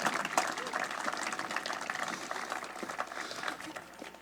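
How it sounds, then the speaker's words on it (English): An audience at a football champions celebration ceremony claps in a steady, moderately loud round of applause that holds evenly for several seconds. "give yourselves a good round of applause."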